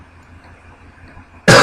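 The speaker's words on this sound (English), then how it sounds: "I'm still trying to get over a bad cough" A single sharp, loud cough bursts out near the end after a stretch of quiet background hum.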